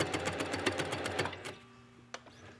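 A sewing machine stitches needle-felted silk in a rapid, steady run of close mechanical pulses, then stops and leaves a low hum with one sharp tick.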